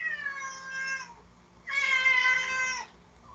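A house cat gives two drawn-out, tonal meows, each about a second long, close and clear over a low steady hum, with a short pause between them.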